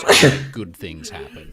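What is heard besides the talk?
sneeze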